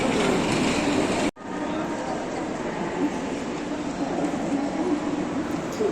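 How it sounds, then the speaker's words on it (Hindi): A passenger train stands at a platform of Mumbai Central railway station, with a steady rumble and bustling station noise throughout, broken by a brief dropout early on. "जो इधर आप सामने ट्रेन देख सकते हैं ये अमृतसर वाली है"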